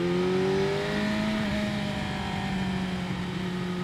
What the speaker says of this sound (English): The sound it makes when you rev it to 16 or something like that is fucking ridiculous.